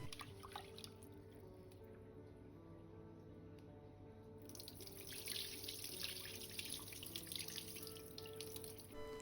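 Rice being washed in water at a kitchen sink, with running tap water and sloshing that grows louder and busier midway, faint and close with no talking.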